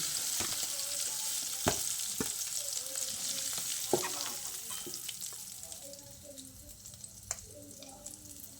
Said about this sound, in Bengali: ওই একইভাবে বাকি চিকেনগুলোকেও ভেজে নিয়েছি।